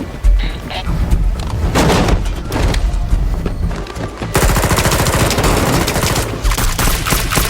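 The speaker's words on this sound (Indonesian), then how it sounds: "Saat Mick menyandar salah seorang FBI, tiba-tiba dari arah pinggir Frank menembak." Dense bursts of gunfire from a film fight scene involving FBI agents, loud rapid automatic shots and booms layered over music and effects, continuous for several seconds.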